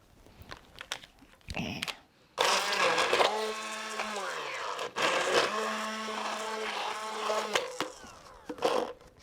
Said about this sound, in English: I'm going to blend this soup with my immersion blender